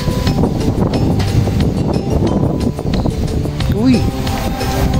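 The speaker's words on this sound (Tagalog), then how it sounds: "Lakas talaga ng hangin." Strong wind buffets the microphone in a steady, loud rush at a rooftop café and gallery with a 360-degree view, blowing continuously under a person speaking.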